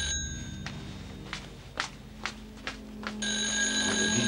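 A telephone bell rings in a 1975 crime drama. A burst of ringing is followed by a pause with several soft footsteps, then the phone starts ringing again, moderately loud and nearby, with no speech.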